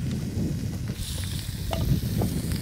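Chicken thighs sizzle in olive oil on a grill, a close, steady frying hiss with a few small crackles and pops over a low rumble.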